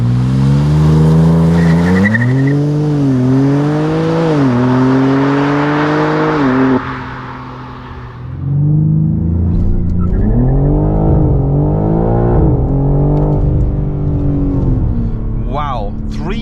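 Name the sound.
BMW M3 xDrive launch control acceleration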